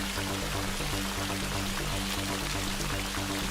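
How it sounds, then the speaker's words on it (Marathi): Heavy rain pours without a break during a storm in a forest, a loud dense continuous wash of noise with no variation in level and no voices. "पाऊस थांबायचं नावच घेत नव्हता."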